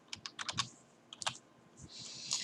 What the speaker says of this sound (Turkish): ben de şimdi kendi adımı ve soyadımı yazıyorum